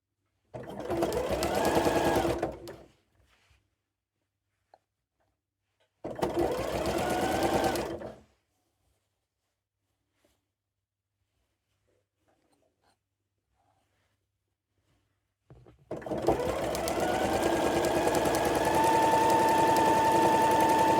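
Domestic sewing machine stitching bias binding onto fabric, heard in three separate bursts of rapid whirring: two short runs of about two seconds each, then a longer run at the end, with silence in between.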